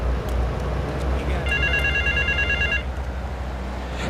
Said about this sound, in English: I'm going to answer this payphone because I like these missions.